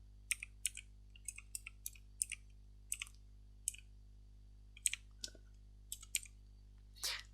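Someone types on a computer keyboard in short, irregular bursts of crisp key clicks, close and fairly quiet against a low steady hum, with a quick flurry of keystrokes at the end.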